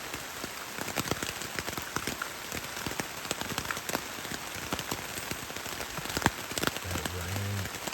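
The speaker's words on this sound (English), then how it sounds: "but you can hear all that rain." Heavy night rain drums steadily on a tent at a creekside campsite, a dense hiss full of sharp close drop taps, with a faint low voice near the end.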